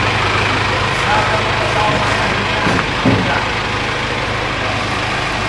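An Elf diesel engine idles steadily in an Odong-odong Jetbus tourist train, a loud low rumble that holds constant throughout, with faint background noise and a brief knock near the end.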